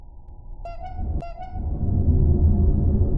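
Two short car horn honks in a horror driving video game, a pause between them, followed by a rising rumble of engine and road noise.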